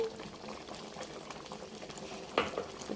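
A pan of tomato pickle bubbles steadily at moderate heat, with soft popping and blurping throughout and a sharper splutter near the end, fairly quiet and close, with no talk.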